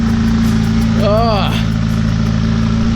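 Straight-piped McLaren engine running loud and steady with a deep rumbling exhaust drone close by, while a voice briefly speaks over it.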